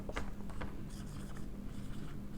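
A teacher writes on a board during a computer fundamentals class, making a few faint scratchy strokes and taps close by against a low steady room hum.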